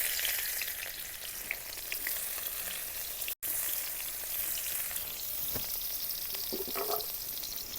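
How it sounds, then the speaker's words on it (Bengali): Chopped onion and green chilli fry in hot oil with a steady, dense sizzle that carries on without a break, along with a few faint stirring scrapes and a brief dropout partway through. "তেলটা গরম হয়ে গেছে পেঁয়াজ কুচি কাঁচা লঙ্কা কুচিটা দিয়ে দিলাম"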